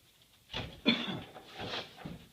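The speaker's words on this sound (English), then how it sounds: "Can't get rid of this cough." A few dry, rough coughs in a short cluster, close by and moderately loud, with no talking.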